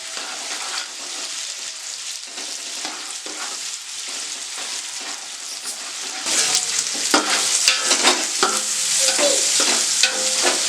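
Tomato pieces frying and being stirred in a pan for an Andhra-style vegetable biryani, a steady loud sizzle with scraping stirs that grows denser and louder partway through, with no voices.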